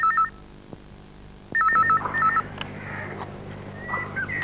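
A telephone rings with an incoming call in a home, repeated electronic ringtone bursts with short gaps between them, fairly close and loud, with a few faint background noises.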